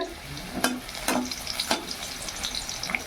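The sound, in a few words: potatoes frying in a pan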